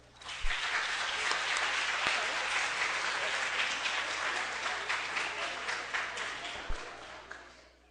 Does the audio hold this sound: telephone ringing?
no